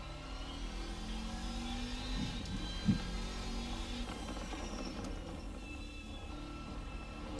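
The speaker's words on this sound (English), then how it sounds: "We have got some great sounds on this car." The V8 engine of an RSS GT-M Bayro 6 in a racing video game holds a steady, droning note with a low rumble and faint whine, continuous and moderately loud.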